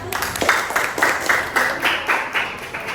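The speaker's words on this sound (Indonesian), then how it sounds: "tepuk tangan dong untuk kelompok 1" Classroom applause for the first student group, heard as a series of evenly spaced clapping bursts in a steady rhythm, fairly close and moderately loud.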